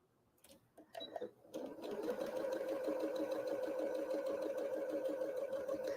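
A sewing machine stitches a quarter-inch seam on quilt fabric, starting with a few clicks and handling sounds before settling into a steady, fast, close mechanical whir.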